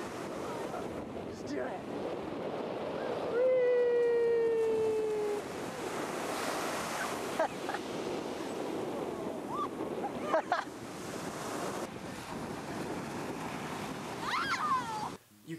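Surf breaks on a Mediterranean Sea beach in Tarragona, a steady wash of waves with wind buffeting the microphone, while people talk and shout nearby and a whistle-like tone rises briefly.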